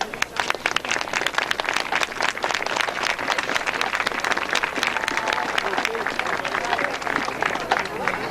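A stadium crowd applauds a high school marching band at an evening band festival, dense sustained clapping with scattered cheers and crowd murmur, fairly close and steady throughout.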